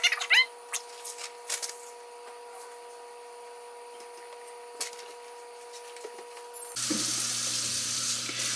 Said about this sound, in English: I just drained out the macaroni.